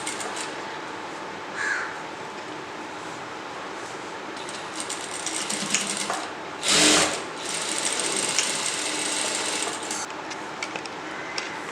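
A sewing machine steadily stitches the shoulder and sleeves of a blouse, a continuous whirring hum with one brief louder burst midway and a crow cawing faintly in the background.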